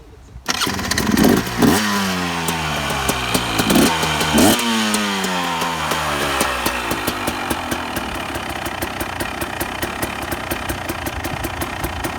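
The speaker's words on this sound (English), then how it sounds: "But here we go, electric start right here. So it starts right up." A 2017 Husqvarna TE300 two-stroke motorcycle fires up on its electric starter after a couple of cranking bursts, then settles into a crisp, rapid idle with sharp ringing exhaust pops, loud and close.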